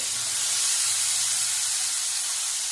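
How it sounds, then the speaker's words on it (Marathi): Hot tempering with asafoetida is poured over an amaranth leaf vegetable, giving a loud, continuous hiss that stays even and close throughout. "हिंग घातल्यानंतर लगेचच ही फोडणी आपण भाजीवर ओतणार आहोत."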